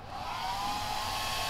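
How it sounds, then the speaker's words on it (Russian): An electric hair dryer runs with a steady, loud whirring hum and rushing airflow, close by and unbroken, with no voices over it. "Это вот электрический фен, которым сушат волосы."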